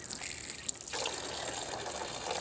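Coolant gushes steadily out of a Pontiac Aztek during a radiator replacement. It is a loud, continuous broadband pour with a single brief knock early on, and no voices.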